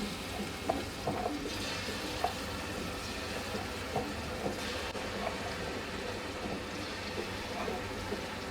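Food frying in oil in a pot while cooking shrimp pasta, a steady crackling sizzle with occasional light pops and stirring clicks, even and close, with no talk.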